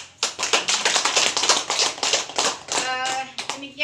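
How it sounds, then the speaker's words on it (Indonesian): A small group of women at a parenting-module meeting clapping hands in a brisk, uneven rhythm of sharp claps, close by, tapering near the end as a voice starts to speak. "Kita berikan tepuk tangan untuk semua."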